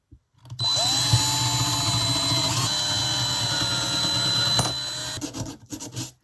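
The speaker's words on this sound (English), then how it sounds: "Out with the drill and drill a hole." A power drill bores a hole through a piece of scrap wood in a craft workshop, a loud, steady whirring grind lasting about four seconds before spinning down, followed by brief rattling handling noise.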